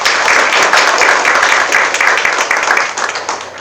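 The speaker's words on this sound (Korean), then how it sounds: "큰 박수 부탁드립니다." Loud, dense applause from the crowd at a startup demo day, sustained throughout with a slight dip and swell toward the end.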